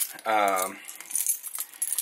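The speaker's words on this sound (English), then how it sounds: "Then I have my car keys" Car keys for a Ford jangle faintly in a few light metallic clinks, after a brief voice is heard.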